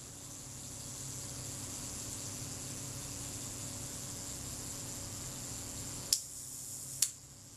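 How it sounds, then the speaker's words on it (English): A camera's mechanical self-timer whirs steadily for about six seconds, then the shutter releases with a sharp click, followed by a second click a moment later. "allow the self timer to run down"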